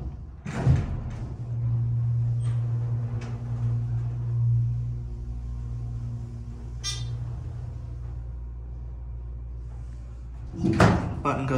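Dover Impulse hydraulic elevator motor running, a steady low hum that holds for several seconds, bracketed by door and latch clunks at the start and end, with brief talking.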